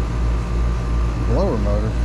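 The blower motor of an eight-year-old ICP system with a leaking coil runs with a loud, steady whooshing drone. A voice speaks briefly over it.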